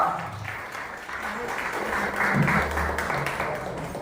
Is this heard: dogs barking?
no